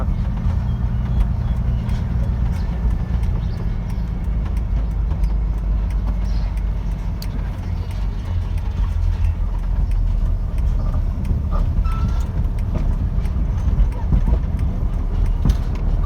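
A six-wheel truck drives along a road early in the morning, its engine a steady low drone with road rumble and faint clattering for the whole stretch, close and continuous.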